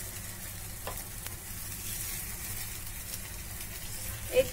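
Sweet potato cutlets fry in a pan, a quiet steady sizzle running throughout, with a small clink of utensil near the end.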